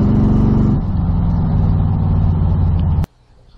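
A 2016 Corvette Z06 engine roars loudly and climbs in pitch as it accelerates, then cuts off abruptly, leaving faint background noise.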